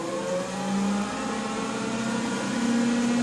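BMW E31 840CI converted to electric drive, its motor whirring up in a brief throttle blip and settling back, a steady close electric whine with a rising tone near the end and no engine rumble.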